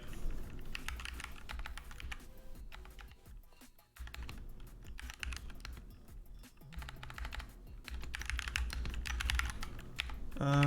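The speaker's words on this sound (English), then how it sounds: "bash my keyboard a lot when I type." Heavy, fast typing on a computer keyboard at a PC, a dense clatter of loud close keystrokes that runs steadily, with one short pause.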